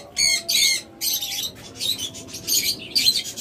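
Pet lovebirds and cockatiels kept for sale call in shrill, repeated squawks and chirps, close and loud in quick bursts with brief gaps.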